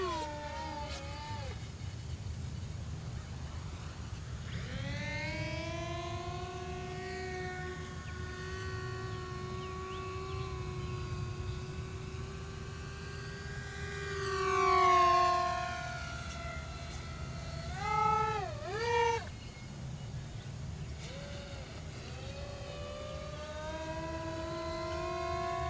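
An E-flite Ultrix 600mm RC model airplane's electric motor whines in flight, rising and falling in pitch as the throttle changes, with a loud surge midway and quick bursts afterward, over steady background noise.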